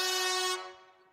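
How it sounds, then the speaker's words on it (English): A single loud horn blast holds for about half a second, then tails off quickly into silence. "Air horn."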